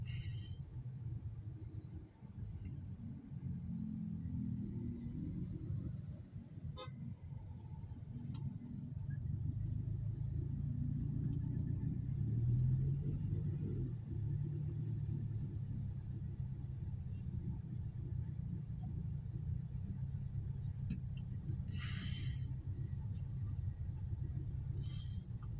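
Dense car traffic on Jalan Sudirman near Bundaran Senayan in Jakarta, a steady low rumble of engines and road noise heard continuously from inside a moving vehicle, with faint brief higher noises now and then.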